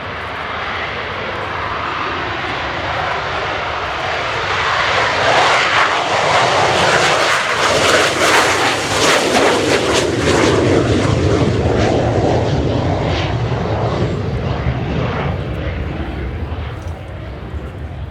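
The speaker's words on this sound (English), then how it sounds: "Craft is the McDonnell Douglas built EAV-8B Matador II Plus," A Spanish Navy McDonnell Douglas EAV-8B Harrier II+ jet at an air show flying display roars loudly and continuously, its broad engine noise swelling to a peak as it passes, with a commentator's voice faint underneath.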